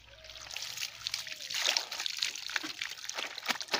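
Water trickles and splashes steadily, drawn up by turning a handle in a continuous gurgling stream close by.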